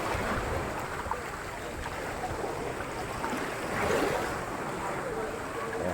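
Sea waves wash onto a beach at Laiya, Batangas, a dense continuous rush of surf with wind buffeting the microphone, swelling slightly midway and staying loud and close.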